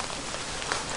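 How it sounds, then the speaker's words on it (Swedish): Rain starting to fall on an open fishing boat makes a dense, even patter close around, with no voices. "Och nu börjar det regna också."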